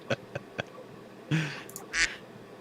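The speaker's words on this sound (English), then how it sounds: "That's a duck." A duck sound effect gives a few short quacks, with soft clicks at first, then two louder nasal quacks close up, standing alone without talk.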